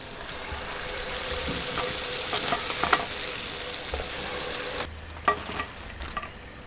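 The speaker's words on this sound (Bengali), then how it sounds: "সব ফুরুলিগুলোকে এইভাবেই ভেজে নিচ্ছি।" Phuruli, a palm fruit pitha, frying in hot oil with a continuous close sizzle and occasional scraping stirs, a low rumbling hum underneath throughout.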